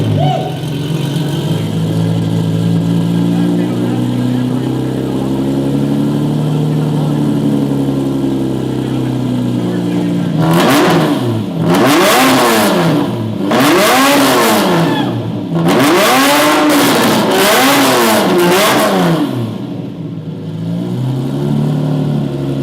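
A Lamborghini movie car from the Fast & Furious films idles roughly, then revs hard in several repeated bursts, each climb and fall of engine pitch loud and close, settling back to a rough idle between them.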